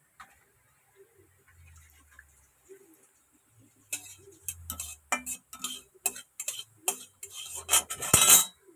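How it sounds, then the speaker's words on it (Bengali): Cardamom pods fry in a pan until they turn white. After a quiet start, the pan gives off a scattered run of sharp ticks, pops and light clinks that grows denser and louder toward the end. "এলাচ ভাজা হচ্ছে।"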